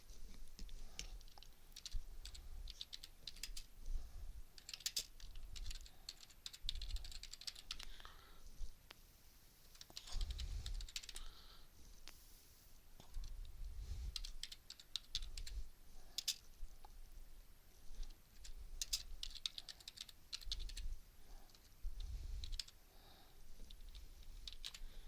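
Computer keyboard typing in a quiet room, scattered soft clicks and taps arriving in irregular bursts with short pauses between, fairly faint and close.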